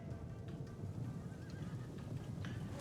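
Cavalry horses in a medieval Mongol battle in Total War whinny faintly amid a dense, steady rumble of hooves and battle noise.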